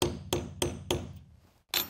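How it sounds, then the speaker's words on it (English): Hammer striking metal overall hardware set on a protective block while sewing overalls, five sharp close taps in a steady rhythm, with a short pause before the last one. "And you can even hammer it from this side."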